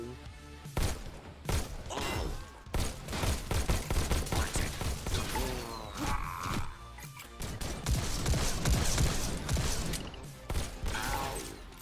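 Shotgun blasts from a virtual shooter game, Robo Recall, fired in quick irregular bursts amid crashing metal impacts and thuds, loud and dense throughout with a busy action-game mix.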